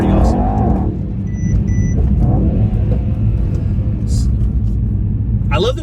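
A 2018 Mercedes E63S AMG in race mode with traction control off and rear-wheel drive accelerates, its loud, deep engine rumble steady and close throughout, with a voice talking over it.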